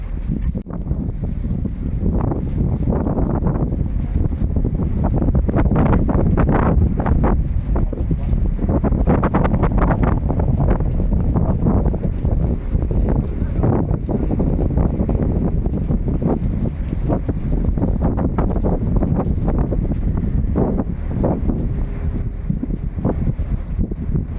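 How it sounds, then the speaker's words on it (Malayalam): Strong wind roars steadily across the open deck of the Gabriella ship crossing from Finland to Sweden, with rain adding a constant hiss and buffeting gusts throughout. "നല്ല കാറ്റും മഴയുണ്ട് കേട്ടോ."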